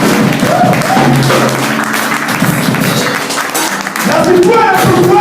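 A church congregation applauds and cheers for the Lord, a loud, continuous wash of clapping and raised voices that swells near the end.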